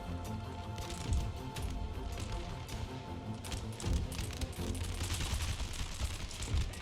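Musket volleys crackle in Empire: Total War, dense rolling gunfire and heavy thumps under a constant battle din, louder bursts around the second and fourth seconds.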